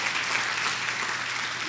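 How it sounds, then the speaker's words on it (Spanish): A church congregation claps for God during a sermon, producing a brief, dense burst of steady applause from many people at constant loudness. "dale un aplauso al Rey"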